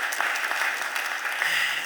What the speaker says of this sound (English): I'd ask everybody to give you a round of applause for that work